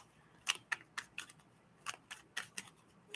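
Stiff tarot cards snap and riffle in a run of quick, crisp bursts, about a dozen separate flicks spaced irregularly over a few seconds, fairly quiet and close, with no talking.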